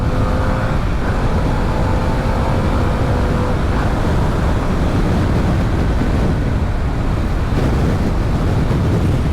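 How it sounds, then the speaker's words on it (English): Strong gusty wind buffets a rider on a Harley-Davidson Pan America Special motorcycle, a continuous loud roaring rush of wind noise against the microphone, steady and dense throughout. "It's a bit blustery today. In fact, it's very blustery today, so I'm getting blown around quite a bit."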